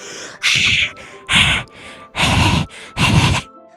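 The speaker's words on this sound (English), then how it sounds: "It sounds like breathing. A sharp inhale, like someone is sucking the air through their teeth." Sharp inhales from the video game Doki Doki Literature Club, four loud, breathy gasps in an uneven rhythm with short pauses between them, close and with no talk over them.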